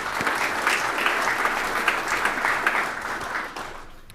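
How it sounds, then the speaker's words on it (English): A conference audience at the Storage Developer Conference applauds the event sponsors, dense steady clapping from a large crowd that fades away near the end. "Big hand of applause and thank you to the sponsors."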